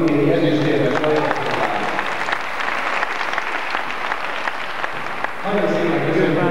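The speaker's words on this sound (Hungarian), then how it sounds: "Nagyon szépen köszönöm a tapsot a többiekkel is." An audience claps at a Hungarian ceremony for a children's home's yearly results, with an Olympic silver medalist present. The loud, sustained applause fills the room, and voices talk over it at the start and again near the end.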